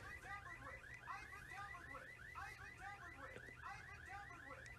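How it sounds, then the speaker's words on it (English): A car alarm in a 2001 film cycles through rapid repeating warbling electronic whoops in a steady, insistent pattern over a low background rumble, sounding faint and distant. "the car alarm is screaming, "I've been tampered with," over and over again"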